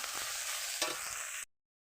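Rohu fish curry with turmeric and salt sizzles in a pan while a spoon stirs it, a steady close frying hiss with one brief scrape near the middle before cutting off abruptly.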